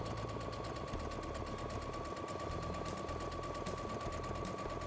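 A straight-stitch sewing machine runs a short reinforcement seam on a cloth diaper holder, a fast even mechanical clatter with a steady whine, close and continuous.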